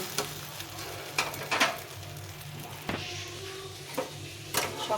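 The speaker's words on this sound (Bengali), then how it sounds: "এক পাশে হয়ে গেছে, এখন উল্টো দিকে এইভাবে ভেজে নিতে হবে।" A rice and moong dal chila fries on its second side, a soft steady sizzle with a few sharp scrapes and taps from a spatula against the pan.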